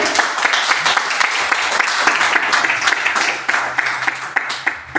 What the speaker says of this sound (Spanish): pido un fuerte aplauso para que pase al frente